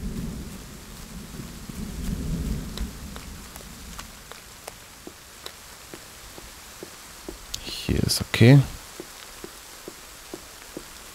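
Rain and thunder in the survival video game The Forest: steady rain hiss with a louder burst near the end, under quiet German speech and sharp game clicks.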